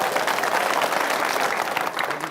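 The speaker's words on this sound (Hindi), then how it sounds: "कितने लोग मानते हैं इस बात को? तालियां बजाए जो मानते हैं।" Applause from an audience at a public discussion about Indian Muslims, steady and dense for the whole stretch, fairly loud and close, with no talk over it.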